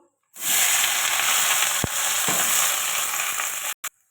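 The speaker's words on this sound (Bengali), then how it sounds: "পেঁয়াজটা ভাজা হয়ে গেছে" Loud, steady sizzling of onions frying in hot oil, a dense crackling hiss that starts abruptly and runs continuously with a couple of brief pops.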